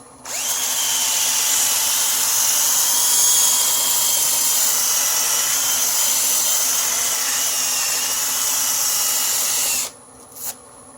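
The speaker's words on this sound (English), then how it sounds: "I jump up to my 220, flip the lathe on." A wood lathe spinning while a natural edge bowl is sanded with 220 grit paper, a steady high whine and hiss that runs loud for about ten seconds, then stops abruptly.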